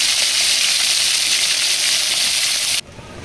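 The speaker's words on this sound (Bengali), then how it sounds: "আমি এখন মাছগুলো ফেলে দেবো। মাছটা পিটি করে ভালো করে ভেজে নেব।" Pangas fish sizzles loudly in hot oil in a pan, a dense continuous frying hiss that suddenly drops to a quieter crackle near the end.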